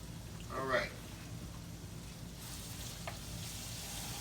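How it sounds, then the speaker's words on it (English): Taco meat frying in a pan, a soft continuous sizzle heard close, with a voice speaking briefly near the start. "I'm trying to cook this taco meat down where it's not too oily"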